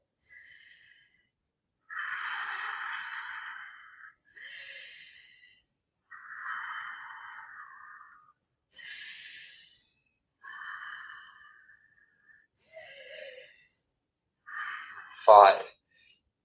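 A person breathing deeply and slowly while holding a seated yoga pose, with audible breaths in a steady rhythm separated by pauses and a sharper snort-like exhale near the end.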